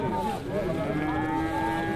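Cow at a cattle market in Syria letting out one long, drawn-out moo, fairly close and clear over a low background of market noise.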